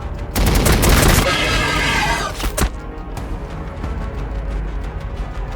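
Gunfire erupts in Warhammer 40,000 Battlesector, a loud dense burst of rapid shots for a couple of seconds, then fades into scattered distant firing and battle noise.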